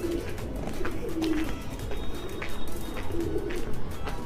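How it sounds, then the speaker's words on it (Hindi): Pigeons in a large rooftop loft give soft, low, repeated coos, a few short calls scattered over a noisy, rumbling background. "अभी आगे आपको कबूतर दिखाएंगे।"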